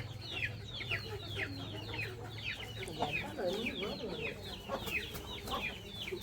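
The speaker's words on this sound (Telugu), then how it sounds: "ఇక్కడ కోళ్ళు అయితే అన్ని పందెం కోళ్ళే పుంజులు పెట్టలు అన్నీ ఉన్నాయి" Fighting-breed roosters and hens on a village farm cluck and call repeatedly in quick, overlapping bursts, fairly close. A low steady hum runs underneath the birds.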